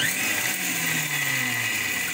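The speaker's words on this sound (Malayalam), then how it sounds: "ഇനി നമുക്ക് മിക്സിയിൽ അടയ്ക്കാം" A kitchen mixer grinder blends mayonnaise for a French salad, a loud, steady motor whine with a continuous high buzz held evenly across the whole stretch, no voices.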